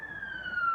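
An ambulance siren wails outside, a single sustained tone drifting slightly downward, moderately loud through the walls with no talking.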